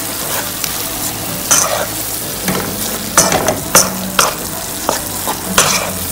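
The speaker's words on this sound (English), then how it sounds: "I'll let it simmer for about a minute." Garlic, mushrooms and boneless chicken simmer and sizzle in a pan, a steady frying hiss broken by scattered clinks and scrapes of stirring, close and fairly loud.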